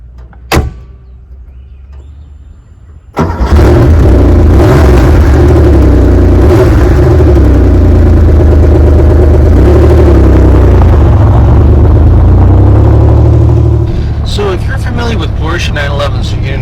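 A Porsche 911SC starts after a click and some shuffling, its flat engine catching and settling into a loud, steady idle close by for about ten seconds, then easing slightly as other clatter follows.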